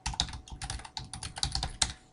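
Rapid keystrokes on a computer keyboard, irregular bursts of close, crisp clicks with a few louder taps, no voices.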